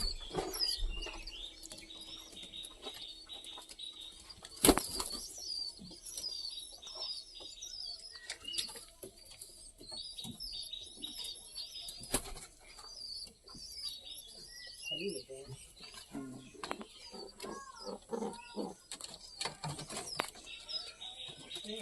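Domestic pigeons kept at a family home flutter and flap their wings in repeated bursts, with soft cooing and chirpy calls scattered throughout at close range, and no talking.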